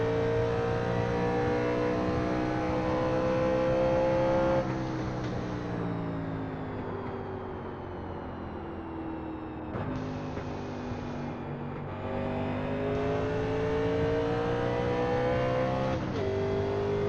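Engine of a 1987 NASCAR stock car in iRacing, droning loudly and steadily at high revs after the shift into third gear, with pitch dips where the revs shift as the car runs the lap at WWT Raceway (Gateway).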